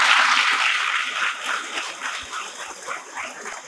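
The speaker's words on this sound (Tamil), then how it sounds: "எல்லாம் கைதட்டுக்கணும்" Applause from an audience at a government arts college function, a loud, dense burst of clapping that starts strong and gradually thins and fades over a few seconds.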